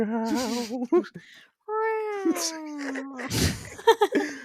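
A voice imitates a cat, drawing out a few high, wavering meows with a sliding pitch, close and clear.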